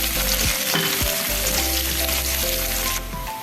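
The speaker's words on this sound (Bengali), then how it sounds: "দিয়ে অল্প একটু পেঁয়াজ নাড়াচাড়া করি" Onions frying in oil with a bay leaf hiss steadily up close, while a spoon scrapes and knocks against the pan several times during the stirring.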